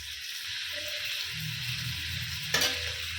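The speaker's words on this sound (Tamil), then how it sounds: "இப்போ நம்ம வெட்டி வச்ச மூணு தக்காளியை இதோடு சேர்த்திக்கலாம்" Three chopped tomatoes sautéing with softened onions in a pan for a button mushroom biriyani, a steady close sizzle with a sharp burst of splatter as they go in, no talking.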